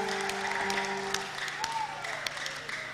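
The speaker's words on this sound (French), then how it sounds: "Applaudissez, s'il vous plaît." Wedding guests applaud at a nuptial ceremony, a steady patter of clapping over a sustained hum and some background voices, moderately loud throughout.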